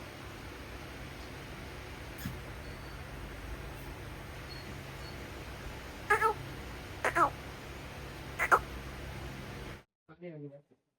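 A cat in a pet shop gives a few short meows, moderately near, against a steady hiss of shop background noise that cuts out near the end.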